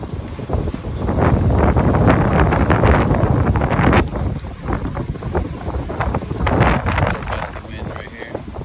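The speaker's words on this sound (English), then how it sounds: "Gusty winds right here." Gusty wind from Hurricane Milton in Polk County buffets the microphone with a loud, continuous roar that swells and eases in gusts, close and steady throughout, with no voices.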